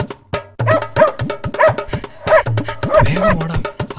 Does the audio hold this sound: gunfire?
no